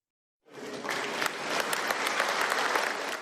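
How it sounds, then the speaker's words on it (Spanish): Members of the imperialist faction in a Mexican imperial assembly applaud energetically: dense, sustained clapping from many hands that starts abruptly and holds at full strength without a break. "Los miembros de la facción imperialista aplaudieron enérgicamente"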